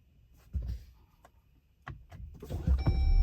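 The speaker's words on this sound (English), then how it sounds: "Turn the engine on, the lights come on." A Jeep Wrangler Rubicon fitted with 7-inch work lights starts up after a few faint clicks, its engine catching and rising into a loud, steady idle close by.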